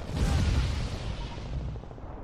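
One heavy artillery boom from a Medal of Honor battlefield, a loud low blast that rumbles and fades over about two seconds.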